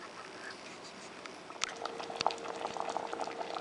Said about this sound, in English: now that we've got a little bit of a simmer going